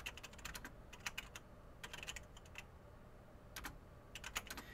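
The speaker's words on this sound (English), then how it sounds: "Then you're going to type" Keys clatter on a computer keyboard in short quick bursts separated by pauses, soft and close over a low steady background hum.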